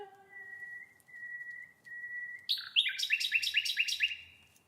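A long, steady sustained tone is held, then nightingales break in nearby with bright, rapid, repeated trilling phrases. The song is clear and fairly close in quiet surroundings.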